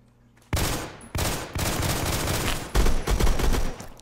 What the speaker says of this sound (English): Oh, this is a burst weapon.